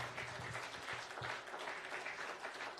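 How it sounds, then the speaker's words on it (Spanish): A church congregation claps in applause during a sermon, a steady dense wash of hand claps at moderate level running throughout without a break and without speech over it. "Denle el aplauso al Señor si se lo quiere dar."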